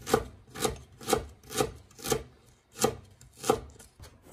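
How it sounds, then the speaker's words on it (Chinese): A knife chops peeled fresh ginger into thin strips on a board, with about nine crisp, evenly spaced strokes and a brief pause partway, close and fairly quiet with no talking. "然后再改刀切成姜丝，"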